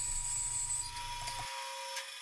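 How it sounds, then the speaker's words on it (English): Bandsaw slicing slowly through plain sawn wood boards, a steady high-pitched whine with low rumble for about a second and a half before the cut ends and the motor keeps humming alone. "All the bandsaw cuts made in this video are actually shown at 4 times normal speed."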